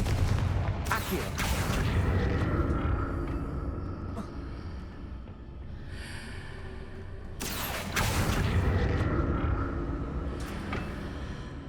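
Blasting-spell explosions in Hogwarts Legacy, with two loud bursts about seven seconds apart over a constant rumbling battle din.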